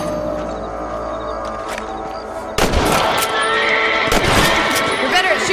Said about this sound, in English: You're better at shooting rabbits than outlaws, I see.